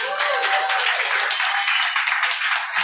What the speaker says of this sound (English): Let's make sure we have a big round of applause for Dr. Gurmeet from X-Halo.